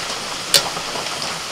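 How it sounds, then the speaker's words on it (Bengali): Peanuts fry gently in oil over low heat with a soft, continuous sizzle, broken once by a single sharp crackle or click partway through. "বাদামটা কিন্তু একদম হালকা আঁচে ভাজতে হবে"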